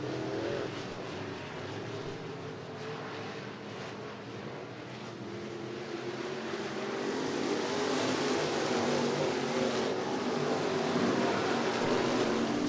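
IMCA Sport Mod race cars roar around the dirt oval at Cottage Grove Speedway in a heat race, a steady loud blend of engines that swells toward the end as the pack passes close.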